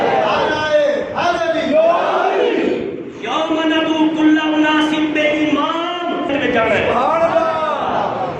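A large crowd chanting together in loud, sustained unison, voices rising and falling in repeated slogan-like calls.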